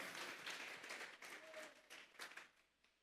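A church congregation claps in praise in a short, fairly faint burst of applause that fades out toward the end.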